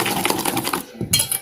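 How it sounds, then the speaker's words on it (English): A whisk stirs sugar in a bowl for chocolate cake batter, making quick, close metallic clinks and scrapes in an uneven rhythm, with a short pause before a final flurry. "Give a good whisk"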